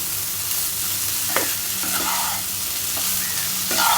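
Bitter gourd masala frying dry in a pan, a loud continuous close sizzle with a few light scrapes and taps as it is stirred, steady throughout without speech.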